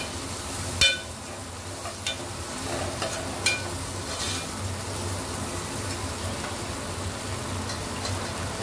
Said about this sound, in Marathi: नंतर ही भाजी आपण जी धुवून स्वच्छ चिरून घेतलेली आहे ती परतवून घ्यायची